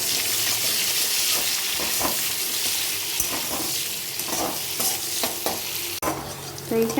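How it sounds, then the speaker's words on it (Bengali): Onion frying in hot oil with cardamom, cloves and cinnamon for chicken biryani, a loud, steady sizzle close up with intermittent stirring clicks and a brief clatter near the end. "পেঁয়াজটা আমি দিয়ে দিলাম তেলে।"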